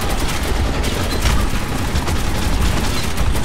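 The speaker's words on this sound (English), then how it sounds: "This gun's amazing and never runs out of bullets." Rapid sustained gunfire from a weapon in the video game Metro 2033 Redux, a dense loud barrage of shots that continues without pause.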